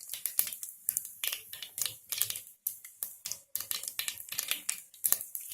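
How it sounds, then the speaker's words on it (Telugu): Mustard seeds splutter in about two tablespoons of hot oil while tempering spices for a tamarind and raw banana stew, giving quick, irregular crackling pops in close bursts that are fairly quiet, with no talking. "ఆవాలు చిటపటలాడినాక"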